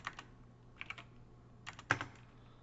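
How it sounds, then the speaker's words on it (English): Typing on a computer keyboard, a few quiet clusters of quick key clicks separated by short pauses, close and faint with no talking. "I don't know why I can't type"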